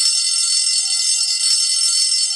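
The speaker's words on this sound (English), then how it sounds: "I keep trying to ring the alarm for you guys." A steady high-pitched electronic alarm or ringing tone sounds continuously and loudly, with no pauses and no voices.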